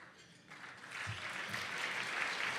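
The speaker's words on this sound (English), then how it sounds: "Can we give them all a round of applause" A conference audience at a community development summit applauds its planning committee, the clapping swelling from quiet to a full, steady round that carries on throughout.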